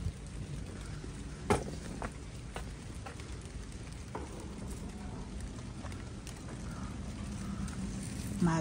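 Rain begins falling in a vegetable garden, a soft continuous patter and hiss of drops on leaves and ground, with a few faint taps and rustles close by.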